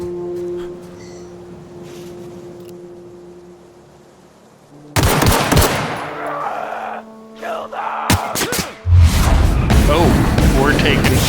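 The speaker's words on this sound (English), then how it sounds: "Oh, we're taking fire." Gunfire erupts in The Outer Worlds, loud bursts and booming blasts starting midway and continuing densely over a low ambient hum, with talk mixed in.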